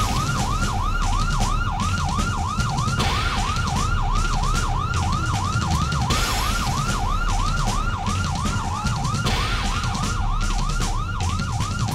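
A police siren wails in a steady repeating rise and fall, loud and continuous over a low traffic rumble, with no talking.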